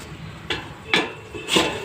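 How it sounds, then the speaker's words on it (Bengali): A lid settles onto a cooking pot of greens, giving three short metallic clinks about half a second apart, close and moderately loud over a low background. "এবার আমি ঢেকে দেবো।"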